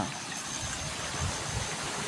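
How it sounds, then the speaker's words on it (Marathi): A small stream swollen by rainwater gurgles steadily beside a waterlogged organic turmeric field, a continuous close rushing with no talk over it. "या ओढ्यामध्ये तुम्हाला आवाज येत असेल तर या ओढ्यामध्ये पाणी वाहत आहे"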